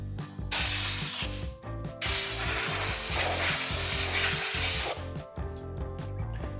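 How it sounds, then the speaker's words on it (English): Bursts of compressed air blasting through a car interior around the electronics, loud hissing blasts in two or three long spurts with short gaps, close up, with a low droning hum underneath and no talking. "compressed air is your friend, everybody."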